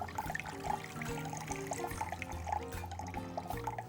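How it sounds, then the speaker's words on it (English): Rinse water poured off sprouting mung beans through a muslin cloth into a bowl, a continuous close splashing trickle with gurgling, uneven spurts and no talk. "You then need to pour the water out into a bowl."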